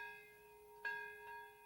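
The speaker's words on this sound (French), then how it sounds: "les cloches du mémorial de Nagasaki ont sonné, comme chaque année depuis 75 ans." Memorial bells ring at Nagasaki's annual remembrance, two soft strikes with a sustained resonant hum, faint and distant.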